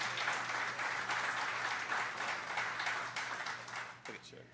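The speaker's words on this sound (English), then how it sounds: "So let's give them a round of applause as well." Applause from a live audience at a coach's show held at Chicken N Pickle, a steady broad wash of clapping lasting about four seconds and tapering off at the end, with a low steady hum beneath it.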